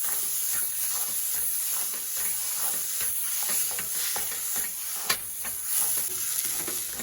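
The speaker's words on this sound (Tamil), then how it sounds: "பறிச்சு வச்ச இந்த பாசி பருப்பையும் தேங்காயும் போட்டுக்கும் நல்லா கிளறி விட்டுருக்கேன்" Stirring roasted semolina (rava) with moong dal and grated coconut in a pan for a sweet, a steady scraping and faint sizzle running throughout with no talk.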